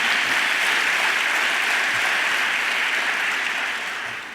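Sustained audience applause fills a gala hall for the Desjardins OSEntreprendre awards, a dense, even wash of many hands clapping that holds steady and begins to taper off at the end.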